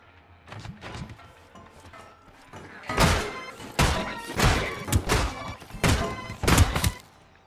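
Rapid automatic fire from a sentry gun in Scrap Mechanic, heard as several dense bursts of punchy thuds in close succession, loud and near, after a quieter stretch at the start.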